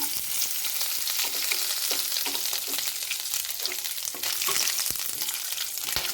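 Whole cardamom pods, cloves and peppercorns crackling in hot oil in a pan, a steady loud sizzle with scattered sharp pops and a few stirring clicks throughout.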